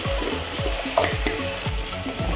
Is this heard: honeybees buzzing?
no